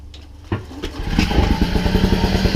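A custom motorcycle engine cranks and fires up after a few tries, then settles into a steady, loud, close-up idle with a regular pulsing rhythm.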